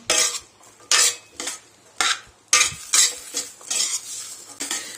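A spoon scrapes and clanks around a pot while rajma and potato curry ingredients are mixed, five or six loud, separate strokes spaced about a second apart with a faint sizzle beneath.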